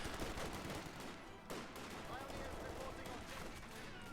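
Pack howitzer artillery in a multiplayer strategy video game firing on a machine gun position, giving dense, loud rattling gunfire and booms under steady commentary.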